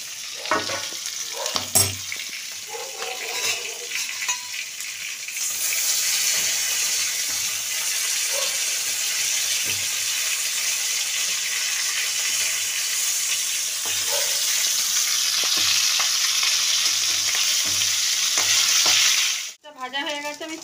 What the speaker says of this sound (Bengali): ভাজা হয়ে গেছে, আমি তুলে ফেলছি।